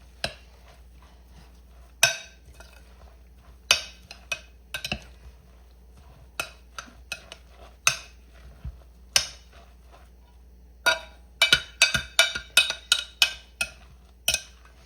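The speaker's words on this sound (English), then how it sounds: "Okay, let's stir this up really well." A spoon stirs zucchini fritter batter with eggs, flour, baking powder and pepper in a bowl. It makes irregular clinks and taps against the bowl, sparse at first and then in quick bursts, with no talking.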